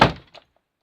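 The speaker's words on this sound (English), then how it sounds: "Let's shut the door." A door slams shut with a single loud thunk and a brief rattle of the frame, followed by quiet, in a workshop where a scrap Samsung appliance is being taken apart.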